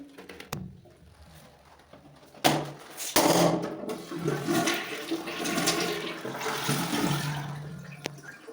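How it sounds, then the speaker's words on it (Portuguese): A toilet with a close-coupled cistern flushes in an apartment bathroom during an inspection. A click is followed by a loud rushing gush of water that swirls and drains steadily for several seconds, with faint bird cooing outside. "Descarga funcionando normalmente."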